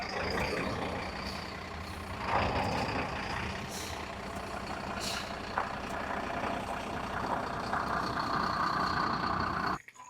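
A vehicle engine runs steadily while the vehicle is moved at a home. The rumble is continuous and moderately close, with a couple of brief louder swells, and there is no talk.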